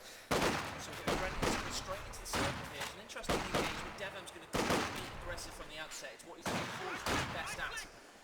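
Sniper and infantry rifle fire in a real-time strategy match, a Grenadier squad supporting the sniper, sounding as sharp repeated gunshot bursts in irregular clusters, mixed under continuous excited commentary.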